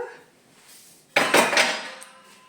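Dishes being washed in a kitchen sink while baking homemade cakes: after a quiet start, a sudden loud burst of clattering pots, utensils and clinking crockery, then a trailing wash of splashy clatter fading out.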